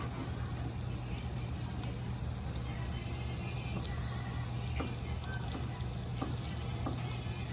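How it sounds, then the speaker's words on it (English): Green pepper sizzles steadily in a hot pan while a risotto is being cooked, giving a dense, continuous frying crackle with small pops throughout and no voices. "I'm gonna put my green pepper in."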